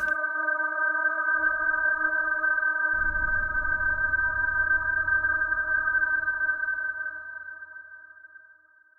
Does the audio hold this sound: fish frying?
no